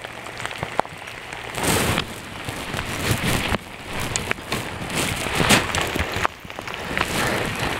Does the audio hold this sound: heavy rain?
yes